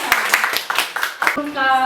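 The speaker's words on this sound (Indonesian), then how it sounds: "Tepuk tangan untuk kita semua." A class claps in a short irregular patter of separate hand claps, close by, mixed with voices, before a sustained tone takes over at the end.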